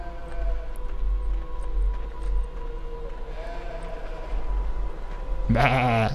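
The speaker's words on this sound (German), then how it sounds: "Bäh. Schafe sind hier drin." Sheep bleating in a stable in the video game Beyond Two Souls, one loud wavering bleat near the end after quieter ambient stable sounds.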